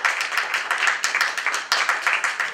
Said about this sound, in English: Ladies and gentlemen, Eddie, a round of applause.